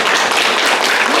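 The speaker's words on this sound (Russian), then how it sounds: "пожалуйста, аплодисменты." Audience applause at a closing ceremony of a competition, loud, dense clapping from a crowd held steady through the whole brief moment.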